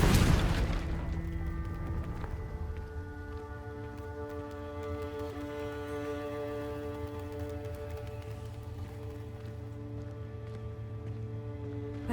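A Confringo explosive spell blast in Hogwarts Legacy, a sharp loud burst at the start that settles into a long fading rumble with sustained ringing tones, heard alone without talk.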